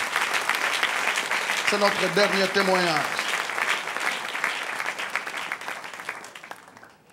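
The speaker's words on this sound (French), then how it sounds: "Donnez une bonne main d'acclamation à Dieu." A church congregation at a Sunday service claps in a steady, lively burst. The applause fades gradually toward the end, and a person speaks briefly over it.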